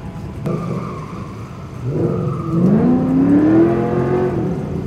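A race car runs off the track on a road course marked with cones. Its engine drones steadily, then its revs climb in a rising whine over the second half, loud and close, with no talk.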